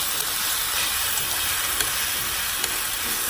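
Crispy noodles stir-fry with pepper, salt and mushroom seasoning, giving a steady, close sizzling hiss with a few faint clicks of stirring.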